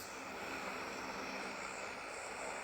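Airplane engine in the PUBG video game, a steady, loud propeller-aircraft drone filling the whole stretch with constant broadband noise and no talk over it.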